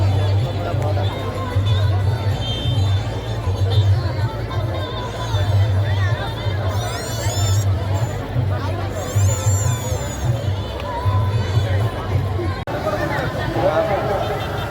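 A dense crowd murmurs and chatters steadily at a Ravana burning festival in Baramunda, Bhubaneswar, with overlapping voices close by and a constant low rumble throughout.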